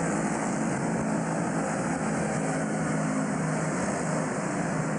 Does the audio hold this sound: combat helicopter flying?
yes